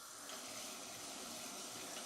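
Rice being rinsed under a running kitchen tap, a steady close wash of water filling and splashing in a sink with no pauses and no talk.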